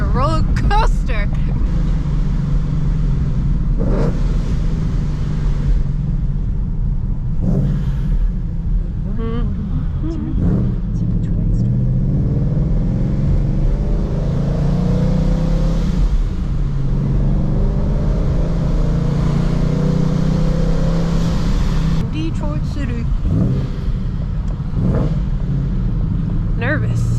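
Supercharged Ford Mustang Mach 1 engine rumbling and revving on a rainy Denver drive, a continuous low drone swelling in spots, heard from inside the car with occasional talk and road noise.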